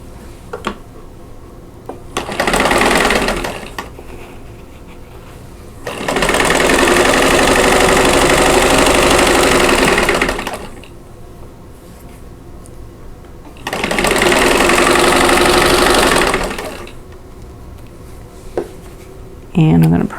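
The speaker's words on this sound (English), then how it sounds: "So I'm going to sew those together." Quilt block seams are stitched on a sewing machine in three loud bursts of rapid, even whirring, one short and two longer, separated by quieter pauses with faint handling noises.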